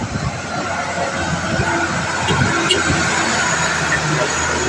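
A Fuso ten-wheeler truck revs hard, its engine roaring louder and deeper as the exhaust booms up close, with someone talking over the noise.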